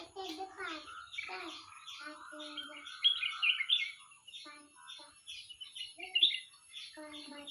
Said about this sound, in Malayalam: അത് അണ്ണാനല്ല, കിളിയാണ്.